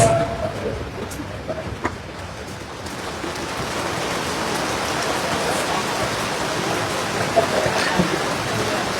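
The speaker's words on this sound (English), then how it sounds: "Can you hear me with the rain?" Steady rain falls on an outdoor gathering, a dense close hiss of drops on surfaces that continues throughout, with faint voices from the audience under it.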